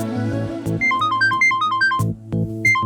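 An electronic phone ringtone in a Hindi TV drama plays a bright, repeating melodic phrase loud and close, with rhythmic beats underneath and no talking.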